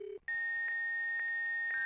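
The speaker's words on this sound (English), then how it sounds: "Those 90s modem noises." A 1990s dial-up modem in Amber: Journeys Beyond makes a brief dial tone, then a steady high carrier whine with faint pulsing clicks, loud, close and unbroken.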